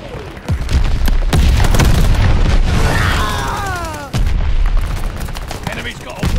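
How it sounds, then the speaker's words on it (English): In a Call of Duty Vanguard match, mortar explosions and booming gunfire crash close and loud in heavy bursts, with a short lull before another sharp blast and battle shouts mixed in. "Mortars incoming!"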